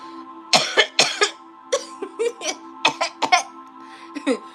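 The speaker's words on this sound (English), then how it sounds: "let me cough on that" A run of sharp, bursty coughs in quick succession, loud and close, with short pauses between clusters.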